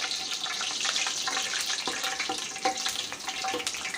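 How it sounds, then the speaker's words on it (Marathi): Puris deep-fry in hot oil with a steady, bubbling sizzle, a bright hiss broken by small pops and crackles throughout. "अशा प्रकारे पुऱ्या ज्या आहेत तळून घ्यायच्या आहेत"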